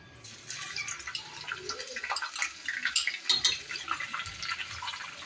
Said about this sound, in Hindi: इसके बाद हम इसमें प्याज डालेंगे, जो हमने पहले से ही चॉप करके रखी हुई थी।